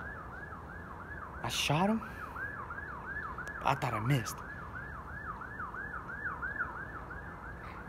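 Police sirens wail continuously in the distance with a rapid rising-falling yelp, steady and fairly faint, while nearby voices briefly talk over it.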